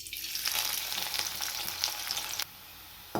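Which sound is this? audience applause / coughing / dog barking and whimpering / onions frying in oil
onions frying in oil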